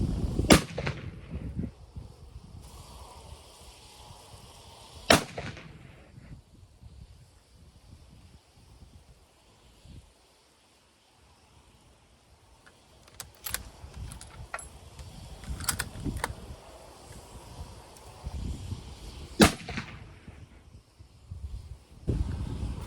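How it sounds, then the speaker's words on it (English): A Winchester Model 70 rifle in .264 Win Mag firing Nosler AccuBond loads lets off sharp, loud outdoor shots spaced several seconds apart, with wind noise and quiet handling sounds between them. "All right, so the first 3 shots we're going to take is with the Nosler AccuBonds."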